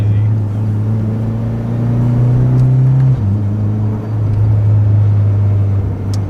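A Mitsubishi Lancer Ralliart driven on the road, its engine giving a loud, steady low drone with an audible pitch change partway through as the gears shift, heard from inside the car with no one talking.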